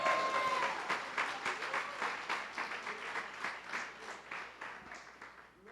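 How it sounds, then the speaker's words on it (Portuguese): A church congregation applauds in worship, dense clapping with a lightly rhythmic, pulsing texture, moderately distant and fairly soft, with a brief tonal whine at the start. "Dê uma salva de palmas ao Senhor."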